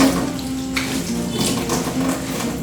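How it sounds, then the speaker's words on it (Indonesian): Hands are rinsed under a running tap, giving a steady, close splash and gurgle of flowing water with faint tonal hum underneath and no talk. "Selanjutnya kita bilas ke air mengalir."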